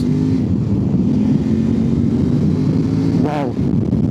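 A 2025 Kove 800X Pro motorcycle engine drones steadily at close range, then revs up sharply in a quick rising whine near the end.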